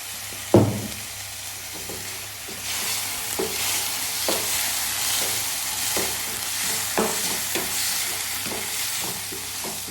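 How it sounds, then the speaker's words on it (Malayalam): Tomato sauce and soy sauce sizzle steadily in a frying pan at close range while a utensil stirs and scrapes with periodic soft knocks, and a sharp clink at the start. "ഇനി ഇതിലേക്ക് നമുക്ക് കുറച്ച് ടൊമാറ്റോ സോസ് ഒഴിക്കാം"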